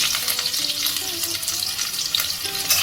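Green chillies and nigella seeds sizzle in hot oil, giving a steady frying crackle with small pops and faint stirring scrapes throughout, close up and without any voice.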